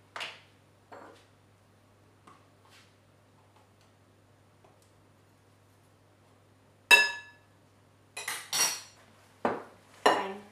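Spinach, ricotta, salt and pepper are being mixed together in a bowl, heard as sparse, quiet clinks and taps with long gaps between them, then a cluster of louder knocks near the end.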